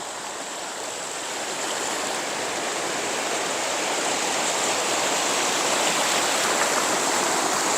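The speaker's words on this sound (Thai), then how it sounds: "ตรงนี้คล้ายๆ เป็นน้ำตกเนาะ" Water pours steadily over a small waterfall at the Kaeng Pla Kaeo rapids near Ban Bung Khiao, making a loud, continuous broadband rush that swells slightly and holds without a break, with no voices over it.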